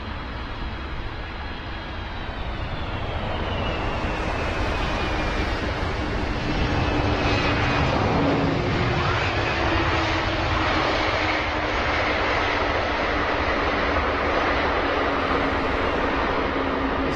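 A jetliner on approach to London Heathrow's runway 27R roars steadily overhead, its engine whine sliding down in pitch as it passes. The loud, broad rumble fills the whole stretch, with no voices over it.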